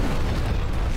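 Loud, sustained explosion from the destruction video game Instruments of Destruction, a dense roaring rumble that fills the whole second without letup and with no voices over it.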